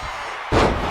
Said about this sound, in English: Slamming down Gage